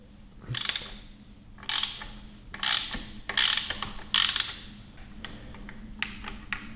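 A ratchet loosens T27 Torx screws on the handlebar control of a 2022 Harley-Davidson Fat Bob, giving five close bursts of rapid clicking separated by short pauses, then a few lighter ticks, with no talk.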